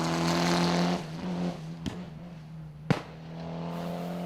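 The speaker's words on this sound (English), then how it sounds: "Simon Bell was the top Group A contender in his Subaru Legacy. Doesn't that car just sound fantastic?" A Subaru Legacy Group A rally car roars on a rally stage, its engine droning loud and close, then two sharp pops or bangs as it backs off, before the note picks up again.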